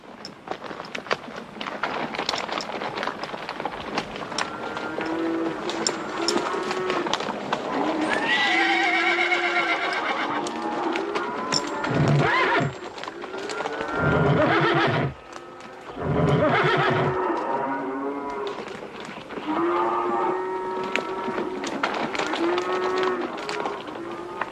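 Horses neigh and whinny repeatedly over the clatter of hooves, loud and close, with several animals calling in overlapping bursts.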